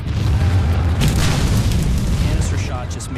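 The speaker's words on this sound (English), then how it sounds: "The casing explodes, spraying the iron balls into advancing troops at hundreds of yards per second." A Civil War cannon at the Battle of Gettysburg fires canister shot, a heavy, sustained booming roar of the blast and bursting casing that fills the whole stretch at close, loud range.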